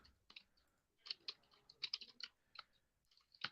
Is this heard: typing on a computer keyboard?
yes